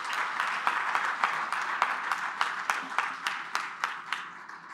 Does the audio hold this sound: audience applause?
yes